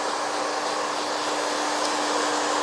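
Handheld hair dryer blowing steadily while drying hair at a salon, a loud, close, continuous airy whoosh with a steady motor whine and no talking.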